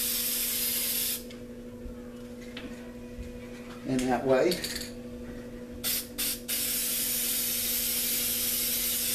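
Spray paint hissing steadily across a canvas, a loud continuous spray that pauses for a few seconds while a voice speaks, then returns with short bursts before resuming its steady hiss.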